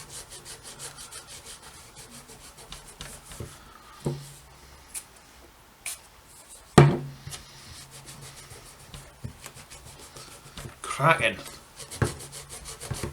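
Rubbing and polishing on a guitar body, a soft, close scraping and wiping texture with scattered knocks and a louder clunk near the middle and again near the end.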